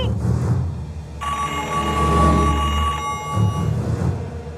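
A telephone rings in a Tamil horror thriller. One loud, sustained electronic ring lasts about two seconds and sits over a low rumbling background.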